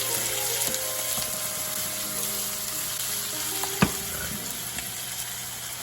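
Peppers fry in a hot pan with a steady, close sizzle and crackle, a few soft clinks and one sharp knock cutting through, no talking.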